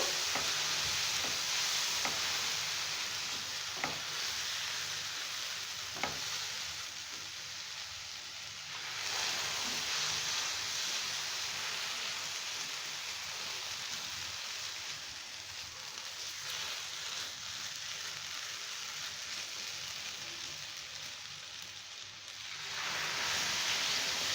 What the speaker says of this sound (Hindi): अब हम इसमें थोड़ा थोड़ा करके दूध डालेंगे।